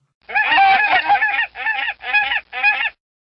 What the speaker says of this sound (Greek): Αυτές είναι χήνες.